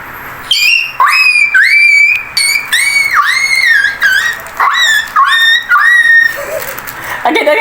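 A person vocally imitates a stuck dog whimpering, producing a series of high, wavering whiny yelps and squeals in quick bursts, loud and close, with brief gaps between cries.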